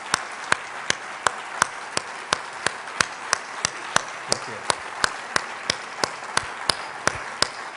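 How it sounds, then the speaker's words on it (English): Audience applause at the 2009 Hilton Humanitarian Prize ceremony, sounding as a steady run of sharp, evenly spaced claps that stands out clearly, with a brief spoken thanks over it. "Let's give them a big applause."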